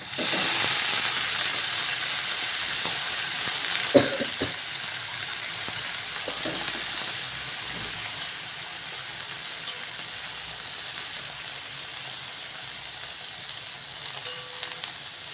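Washed fenugreek leaves land in a hot pan of garlic and chopped green chillies, setting off a steady close sizzle and hiss with a few soft stirring knocks. The sound fades slightly as the frying settles.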